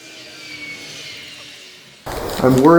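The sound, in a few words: spray can of primer paint spraying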